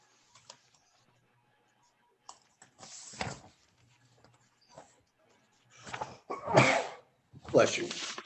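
A single sneeze in a zoning board meeting room, followed by scattered voices and small clicks and knocks in an otherwise quiet space.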